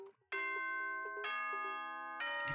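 A doorbell-style ding-dong chime from the game Danganronpa rings out as three clear, sustained bell tones in sequence, each cutting in sharply, playing alone at moderate volume.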